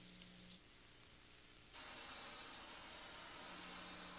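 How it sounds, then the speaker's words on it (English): A steady, broadband hiss from an oxygen powder torch as its oxygen valve is opened toward a neutral flame, starting quiet and jumping abruptly louder partway through, then holding constant. "slowly open the torch oxygen valve until a typical neutral flame is produced as shown"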